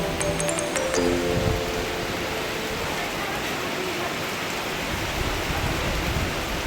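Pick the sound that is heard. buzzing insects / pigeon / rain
rain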